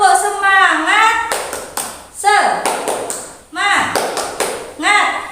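A class of children doing a rhythmic spirit clap, sharp bursts of claps in quick patterned groups alternating with chanting voices, loud and close in a classroom.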